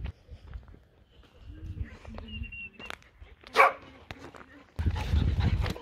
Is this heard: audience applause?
no